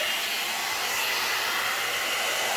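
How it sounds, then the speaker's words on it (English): A blow-dry brush runs steadily with a constant, airy whoosh and motor hum throughout, loud and close, with no voices. "But it's a blow dryer, and it's amazing."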